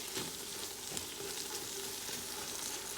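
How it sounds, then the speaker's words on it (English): A pot of basmati chicken fried rice sizzles with a faint, even frying hiss, soft stirring scrapes and clicks mixed in, quiet and close with no talking. "I'm gonna give it a stir, and this is a whole pot of goodness"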